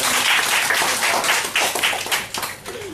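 Brief burst of audience clapping during a business talk, many hands at close range, dense and lively before thinning slightly at the end.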